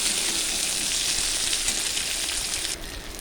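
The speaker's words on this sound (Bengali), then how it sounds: "চালটা আমি হালকা নেড়ে দেব। দিলাম আধখানা টমেটো কুচি" Gobindobhog rice and half a chopped tomato frying in hot oil, giving a steady, close sizzle that holds evenly before easing slightly near the end.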